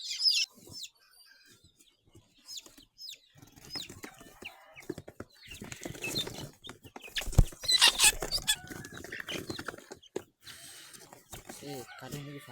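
Layer hens clucking and squawking while being packed on a farm, scattered calls mixed with rustling, handling noise and some wing flaps, close by, with people talking.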